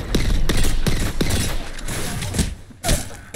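Rapid bursts of gunfire in the video game Apex Legends on Xbox Series S, loud close shots in quick irregular volleys with sharp cracks and thuds throughout.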